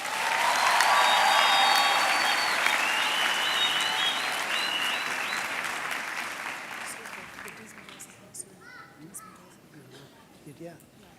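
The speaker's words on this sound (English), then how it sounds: "give yourself a round of applause" Graduation ceremony audience applauding loudly and steadily, then slowly thinning out toward the end, with a few crow caws and scattered murmuring voices beneath.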